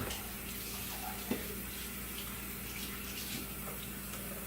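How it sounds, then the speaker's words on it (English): Tap water runs steadily into a kitchen sink while hands are washed beneath it, a continuous moderate splashing hiss with a single brief knock partway through and no talking. "Gotta wash my hands"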